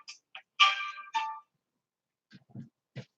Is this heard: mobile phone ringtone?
yes